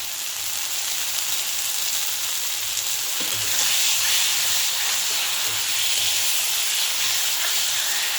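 Peeled green peas sizzle and hiss in a pan while being stirred for a raw-banana kofta curry, a loud, continuous frying sound with occasional soft knocks from the stirring.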